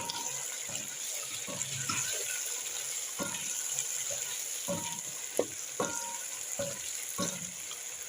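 Pilau frying in a pot while it is shaken and stirred, with a steady sizzle running throughout and repeated short scraping clatters from the stirring at an irregular pace.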